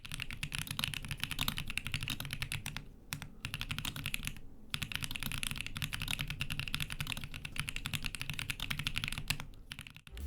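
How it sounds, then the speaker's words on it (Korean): Rapid, continuous typing on a mechanical keyboard with linear switches, a dense stream of crisp key clacks with a couple of brief pauses, close up. "일단 이 키보드를 아무것도 건들지 않고 타건을 해보면"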